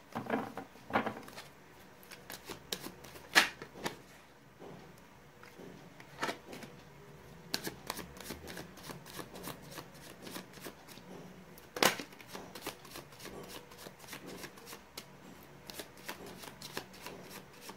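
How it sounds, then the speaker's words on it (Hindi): Tarot cards being shuffled by hand, a long run of quick crisp riffles and soft flicks at irregular intervals, close and fairly quiet with no talk. "मैंने कर लिया कार्ड्स की सफलिंग।"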